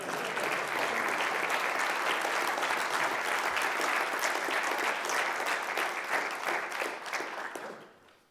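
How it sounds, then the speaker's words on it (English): Sustained audience applause after a tech conference talk on cloud native, even dense clapping filling the room for about seven seconds before quickly dying away. "You can clap, come on."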